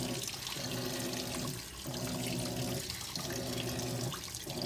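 Water sloshing back and forth in an empty washing machine drum, rising and falling in a slow repeating rhythm of about four surges, close and moderately quiet.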